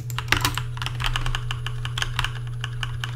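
Computer keyboard keys pressed in a steady run of crisp clicks during Unity grass-tool editing, close and clear over a constant low electrical hum, with no talking.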